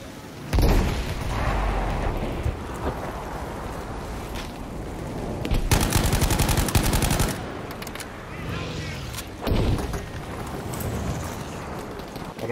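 Gunfire in Battlefield 5, with rapid automatic bursts and loud sustained volleys around the middle and near the end, over a constant wash of battlefield noise.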